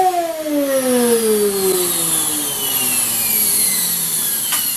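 A Craftsman 12-gallon wet/dry vacuum with no suction runs loudly and steadily, its motor whine sliding downward in pitch over a broad roaring hiss.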